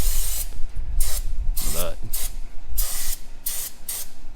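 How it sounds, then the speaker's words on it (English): Cleaner sprayed in short bursts onto the drum brake parts of a barn-find Ford Fairlane, about eight sharp hissing spurts in a loose rhythm, close up, with a brief word spoken between them. "I'm spraying it all down."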